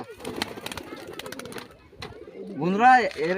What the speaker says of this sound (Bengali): এরকম পায়রা খুব কমই দেখা যায়, এরকম জোড়ামিল পায়রা।